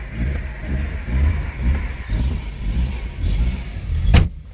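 A Maruti 800 engine idles steadily nearby with a low, pulsing rumble, ending with a short sharp knock.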